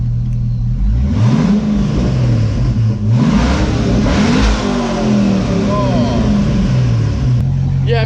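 A Corvette V8 with its exhaust cut off revs hard, loud and close, the engine note rising and falling in repeated throttle blips over a constant rumbling idle.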